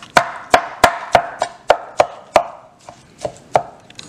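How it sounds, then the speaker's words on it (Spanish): A kitchen knife finely chops cooked chicken on a board, about a dozen sharp, close chops in a quick, fairly steady rhythm, with no talking. "voy a utilizar un cuchillo de estos para picar mi pollo finito"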